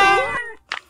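A Siamese cat in a video game gives one clear, drawn-out meow, followed by a brief softer chirp, close and loud with nothing else around it.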